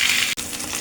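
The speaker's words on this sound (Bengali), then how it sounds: "মাছগুলো প্রায় ভাজা হয়ে গেছে, এবার এগুলো তুলে নিব।" Katla and rui fish heads frying in oil in a pan. A steady, bright sizzle runs close and constant, with one very brief break partway through.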